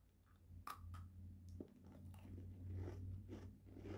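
Crunchy edible sugar crystals being bitten and chewed, giving a few sharp crunches followed by softer grinding, close to the mouth over a low steady hum.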